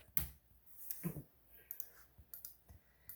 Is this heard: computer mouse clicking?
yes